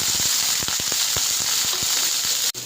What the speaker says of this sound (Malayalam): നമുക്ക് ഉള്ളിയൊക്കെ ബ്രൗൺ കളറ് ആവുന്നവരെ നമുക്ക് ഇളക്കിക്കൊണ്ടിരിക്കാം